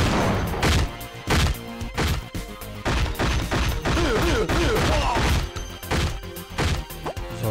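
Rapid bursts of gunfire from the PlayStation 1 shooter CT Special Forces, loud, dense and near, with repeated sharp cracks and thuds layered over game music, no talk.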